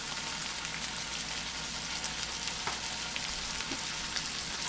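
Stir-fried vegetables seasoned with pepper and salt sizzle steadily in a hot pan, a dense, even hiss with occasional small pops and faint stirring clicks, close and uninterrupted.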